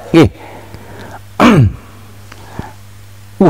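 Three short, sharp throat clearings spaced apart, close and loud, with quiet room tone between them.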